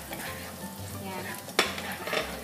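Garlic sizzles in hot oil in a pan, a steady crackling hiss with a sharp utensil clack and stirring scrapes partway through, close and moderately loud.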